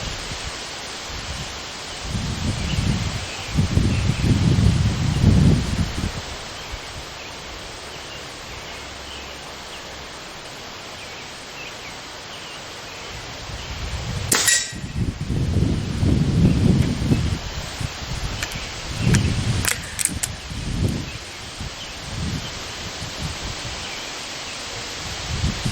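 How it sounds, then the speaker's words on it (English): Strong wind gusts outdoors at an air rifle shooting range, surging loudly in broad rushing bursts with quieter lulls between, buffeting the microphone with low rumbling noise. "The wind is really sucky out here"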